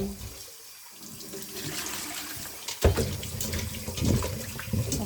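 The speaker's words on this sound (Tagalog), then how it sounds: "So, hugasan natin ang ating kalabasa." Tap water splashes and runs while squash (kalabasa) is washed, a continuous close stream that thins briefly, then surges back more heavily with clattering splashes.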